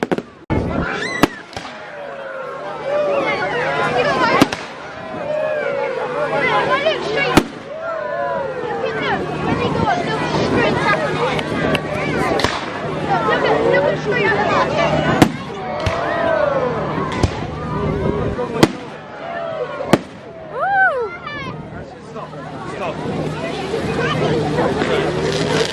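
Bonfire night fireworks bursting over Bath, repeated sharp bangs and crackling scattered throughout, loud and near, with people chatting and crowd babble underneath.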